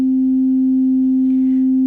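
STG Soundlabs Mankato filter self-oscillating on a 24 dB slope as a Eurorack oscillator, producing one pure, steady sine tone held loud and unchanging throughout, alone with no talk.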